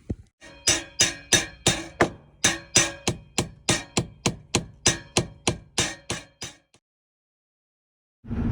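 Steady hammering while working on a truck, about twenty sharp ringing metallic blows in a regular rhythm with brief pauses, loud and close, then stopping into silence.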